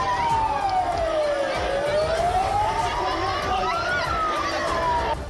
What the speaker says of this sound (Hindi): चारों तरफ पुलिस की गाड़ियों के सायरनों की आवाज गूंजने लगी।